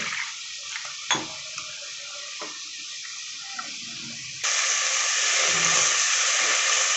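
Steady rushing water runs alone, then grows louder and fuller partway through as water pours into a pot of prawn curry with salt, onion and garlic.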